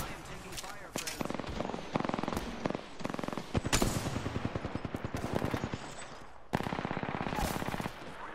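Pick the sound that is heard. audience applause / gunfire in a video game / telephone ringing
gunfire in a video game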